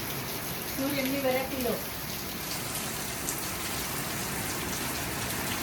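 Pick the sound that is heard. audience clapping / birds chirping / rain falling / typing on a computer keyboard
rain falling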